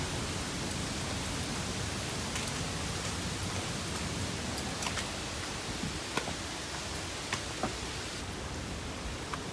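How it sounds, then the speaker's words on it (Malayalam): Water leaking and falling from Peechi Dam, a steady broadband rush like heavy rain with occasional sharper splashes and drips, continuous and fairly close throughout. "ഡാമിൽ നിന്ന് വെള്ളം ലീക്കാവണതെന്ന് കൊണ്ടിട്ടാ."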